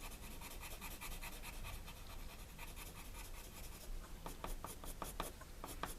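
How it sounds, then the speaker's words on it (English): A colored pencil cross-hatching block lettering on paper, a close, quiet steady scratching that shifts into quick rhythmic back-and-forth strokes toward the end. "A bit of cross-hatching there."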